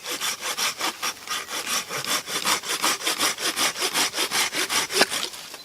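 Silky F180 handsaw cutting through hardwood for firewood, a steady rhythm of about twenty close, loud rasping push-pull strokes with no talking.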